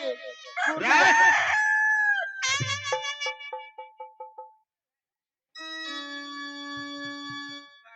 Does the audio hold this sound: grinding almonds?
no